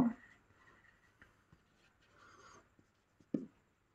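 Pen or chalk strokes writing out an algebra problem for a maths lesson, a few short scratchy taps and scrapes spaced across a quiet background, faint and close.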